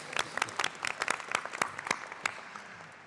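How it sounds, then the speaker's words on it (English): Audience applause at a university graduation ceremony, a steady round of clapping from a seated crowd that holds for about three seconds and gradually thins out toward the end. "It's always a round of applause for Gary."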